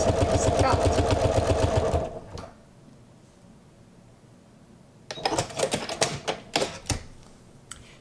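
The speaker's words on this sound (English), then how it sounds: "I'm just going to do a line of sewing right across to attach the 2 pieces of fabric onto the piece of felt." A sewing machine stitches a straight line to join two pieces of fabric onto felt, giving a loud, fast, even mechanical chatter that stops abruptly, followed by quieter clicks and handling knocks.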